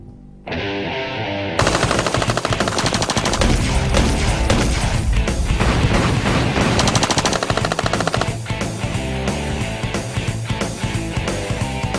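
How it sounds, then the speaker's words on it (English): An American rifle fires a 30-round fully automatic burst: a loud, close, rapid and continuous stream of shots lasting several seconds, with no talking. "This is how we do it here in America with American weapons. Okay, so pay close attention. 30 rounds, fully automatic."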